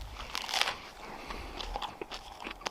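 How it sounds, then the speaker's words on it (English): Someone bites and chews a toasted English muffin breakfast sandwich with raspberry jelly and smoked Gouda while winter camping on Lake Superior's northern shore. Close, crisp crunches and crackles come in quick bursts. "Listen to the crunch of that English muffin."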